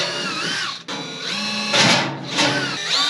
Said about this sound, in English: I think it's time to start drilling